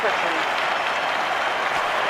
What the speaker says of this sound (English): Crowd really starting to enjoy this.